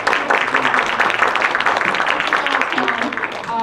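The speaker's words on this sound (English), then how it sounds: "Please give a round of applause." Audience applause welcomes a research professor onto the stage to introduce a conference session; steady, dense clapping from the hall fills the whole stretch at a moderate level.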